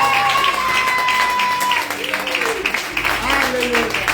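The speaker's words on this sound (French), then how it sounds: "Est-ce qu'on peut acclamer le Seigneur?" A congregation at an evening church service breaks into applause to acclaim the Lord, the clapping rising under voices and tonal sounds that carry on throughout.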